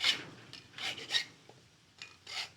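Several short, soft rasping strokes of a metal file on a key, irregularly spaced, quiet and close.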